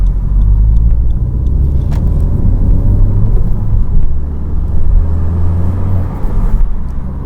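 Steady, loud low engine rumble inside a Honda Civic as it slows through a downshift into second gear and turns left at an intersection, with faint road noise and small clicks over the drone.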